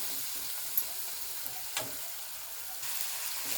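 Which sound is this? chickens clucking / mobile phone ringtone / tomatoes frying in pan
tomatoes frying in pan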